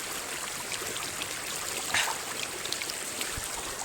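Stream water flows steadily near a former village school, a continuous broadband rush with a small splash around the middle, no voices.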